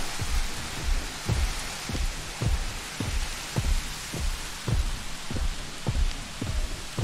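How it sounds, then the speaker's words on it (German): Heavy rain hisses loudly and continuously in the video game Jurassic World Evolution, with a regular thudding pulse beating beneath it about twice a second, heard alone. "Der Regen ist extrem laut."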